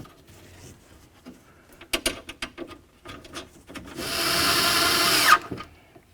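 A power tool runs down and snugs the window regulator mounting nuts inside the door of a 1999-2007 Ford Super Duty F-250. A few quick clicks and rattles come first, then a loud, close, sustained whirring burst lasting over a second.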